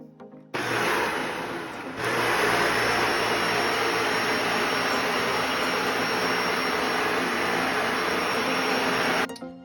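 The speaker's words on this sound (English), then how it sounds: "Now we're bringing in the big gun, the Dyson Ball Animal 2." A Dyson Ball Animal 2 upright vacuum cleaner switches on and runs with a loud, steady motor whine and airflow roar, rising briefly as it spins up, then cutting off at the end.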